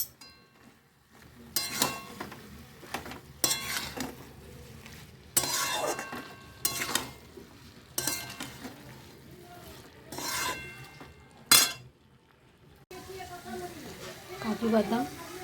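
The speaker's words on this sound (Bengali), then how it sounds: "এবার আমি কষতে থাকি।" Ground coriander, cumin and ginger paste being stir-fried for a banana flower curry, with repeated scraping strokes of a spatula in a pan over a low sizzle, interspersed with a few metallic clinks and a voice talking between strokes.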